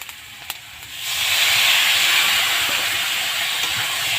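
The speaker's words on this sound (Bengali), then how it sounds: "এবার সামান্য একটু জল দেব আমি যাতে মশলাটা ভালো কষানো যায়" After a quiet moment, water hits hot frying masala and bursts into a loud, sustained steamy hiss that stays strong to the end, close by with no voices.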